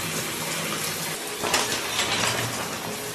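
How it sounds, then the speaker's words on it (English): Shower water running steadily in a bathroom, a continuous broadband hiss with a slight change in spray partway through, close and moderately loud with no talking. "now I'm going to hop in the shower"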